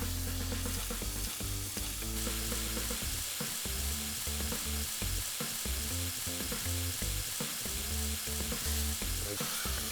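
Cured bacon fries in a hot pan with a loud, steady sizzle and crackle throughout, joined by a faint low hum and occasional scraping or stirring, with no talking.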